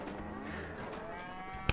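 Cartoonish cows moo in the Worms Ultimate Mayhem video game, a drawn-out bovine lowing over game background sound, ending with a sharp click.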